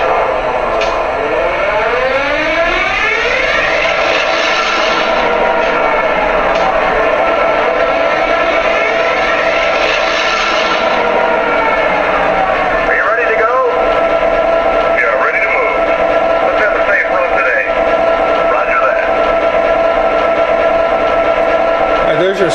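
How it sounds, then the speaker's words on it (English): An MTH PRR E-8 model diesel train runs its extended startup sequence, a loud, steady engine drone with rising whine and rumble, continuous throughout, under a voice talking. "There's your startup. You can hear this train's pretty loud."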